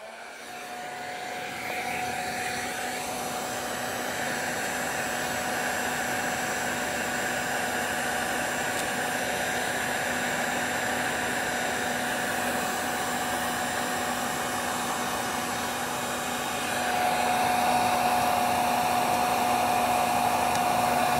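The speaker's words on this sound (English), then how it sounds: "Now we're gonna use a heat gun to heat shrink it." Heat gun blowing a steady, loud hot-air roar while shrinking tubing over heated hand grip wiring on a CFMOTO motorcycle, running continuously close by and growing slightly louder near the end.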